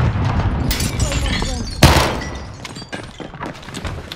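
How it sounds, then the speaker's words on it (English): A flashbang grenade goes off in a shooter video game as one sharp, loud burst near the middle, set among scattered clatter and faint voices. "Flashbang going out."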